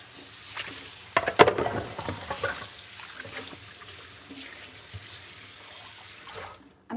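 Dishes being washed at a kitchen sink, with water running, clinks and knocks of crockery, and a louder clatter early on before the sounds settle into softer splashing and scraping.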